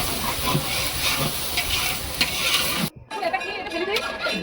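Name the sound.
frying vegetables in a large wok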